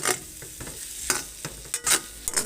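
Corned beef cooks with eggs, tomatoes and onions in a pan while a utensil stirs it. Brisk scraping and clacking strokes sound close and uneven over a soft sizzle.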